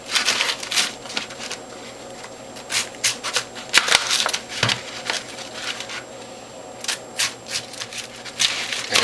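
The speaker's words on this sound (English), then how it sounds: "I'm going to cut my red cabbage into manageable slices" A knife slices through a red cabbage on a cutting board, giving a series of crisp, irregular crunching cuts close by with short pauses between strokes and no talking.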